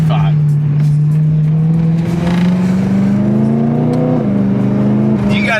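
A BMW E90 M3 with its S65 V8 engine drones loudly and close up in a steady high rev that climbs slightly before easing off, with people talking over the engine.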